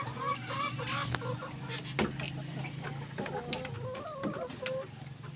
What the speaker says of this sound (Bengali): এই পাশেও আমার কিছু অল্প কিছু লেয়ার মুরগি আছে